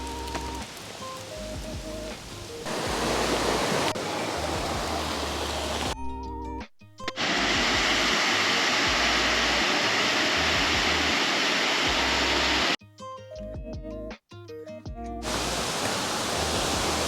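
A waterfall in a ravine roars as a steady, dense wash of falling water, loud and close, broken briefly by a couple of short gaps.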